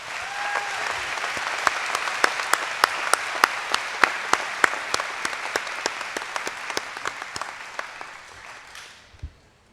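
Sustained applause from a large crowd at a nursing school commencement ceremony, many hands clapping steadily with a few sharp individual claps standing out, fading away at the end.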